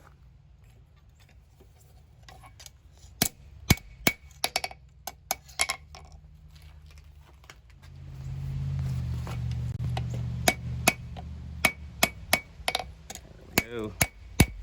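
Hammer strikes forging a small neck knife on an anvil ring out as sharp, bright metallic clanks in irregular bursts, with a steadier low rumble, likely a forge blower, swelling midway and a few spoken words.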